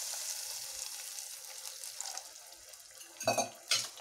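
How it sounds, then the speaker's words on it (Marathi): Water from a tumbler poured into a pot of moth bean (matki) curry, a steady hissing splash under kitchen sizzle, with two short louder gushes near the end. "त्यासाठी मी 1 तांब्या पाणी टाकते।"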